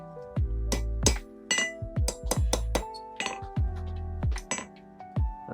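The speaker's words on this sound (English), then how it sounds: "And just continue that scroll as you normally would, just glancing blows." A hammer strikes hot steel in a run of ringing, glancing blows while a scroll is forged into a snail shape, each hit a sharp metallic clink with a lingering tone, spaced unevenly and close by.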